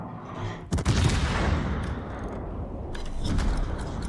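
Heavy naval guns of the Soviet cruiser Petropavlovsk in World of Warships fire in booming salvos with rolling, crackling blasts and dense explosive reverberation, one big volley early and another near the end.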